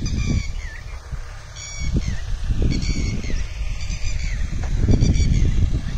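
A bird calls repeatedly as it flies over open countryside near hills. The clear, short calls come in several bursts above a steady rumble of wind and low outdoor noise.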